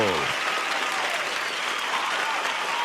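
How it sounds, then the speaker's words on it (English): A round of applause and crowd clapping keeps going, steady and fairly close, with a brief voice right at the start. "Can I get a round of applause, people?"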